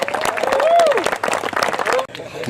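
Outdoor ceremony crowd clapping at a national championships in Latrobe, Pennsylvania, scattered applause with a cheer rising over it, then quickly fading, while a voice talks through much of it.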